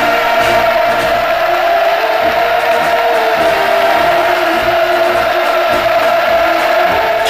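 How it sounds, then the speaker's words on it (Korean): A large crowd at Rungna People's Pleasure Ground roars in sustained, dense cheering, a steady wall of massed voices with no pauses throughout. "환호성 터졌습니다."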